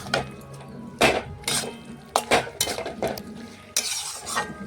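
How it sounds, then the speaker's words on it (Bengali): A utensil stirs bottle gourd in a pan with oil from fried fish, giving repeated scraping clinks and shuffles in irregular bursts over a soft sizzle, close and fairly loud. "এটা নাড়াচাড়া করে ভালোভাবে মিশিয়ে এই দেখুন আবারও একটু রান্না করে নিচ্ছি"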